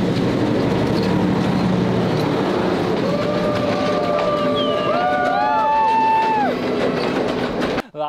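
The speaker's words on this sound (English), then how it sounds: "we can hear the train coming." A train rumbles past steadily over a bridge in Ella, Sri Lanka, its horn sounding several times in rising, overlapping blasts midway through, with the roar continuing throughout until an abrupt cut.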